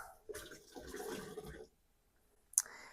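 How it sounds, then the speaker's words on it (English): Water poured from a jar splashes into a sink for about a second and a half, followed by quiet and a short sharp clink. "This water is going into the sink for my dishes."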